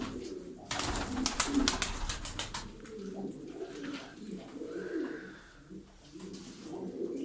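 Kept crested pigeons from Kandıra coo nearby in soft, repeated calls, mixed with some rustling and occasional higher chirps.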